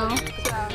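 Glasses clink together in a summer toast, a couple of bright, short chinks close by with voices around them.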